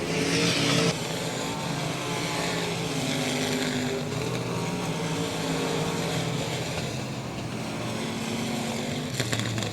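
Race car engine at South Texas Speedway, a steady loud drone as the car rolls into victory lane after the checkered flag, with crowd and track ambience around it.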